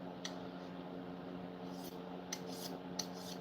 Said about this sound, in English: cut towards the thing like you're trying to take little shavings off